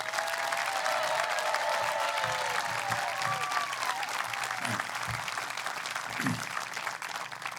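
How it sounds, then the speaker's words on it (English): An audience at a school graduation and promotion ceremony claps steadily for the parents, a dense sustained applause with a few low thumps and whoops mixed in. "let's give our parents at Parkview a big round of applause"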